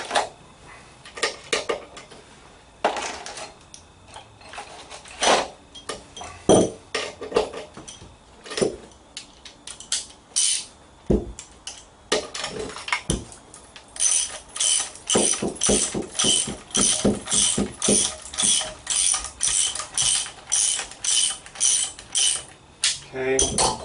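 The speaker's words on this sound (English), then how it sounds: "a regular nut on this one. And I will need to socket that down." Ratchet socket wrench clicking as it tightens a regular nut during assembly of a 60-inch Granberg Alaskan chainsaw mill, irregular metallic clicks and clunks early, then a steady close run of rapid ratcheting strokes, no talking.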